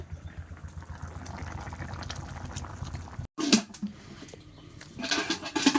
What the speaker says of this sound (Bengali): এদিকে কিন্তু ভাতও ফুটে উঠেছে ভাতটাও হয়ে গেছে